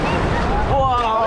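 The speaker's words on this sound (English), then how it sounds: "But guys, the wave is so strong." Strong surf crashes and churns in the shallow, clear blue water off a beach in Mati, Davao Oriental, Philippines, a continuous loud roar with wind buffeting the microphone throughout.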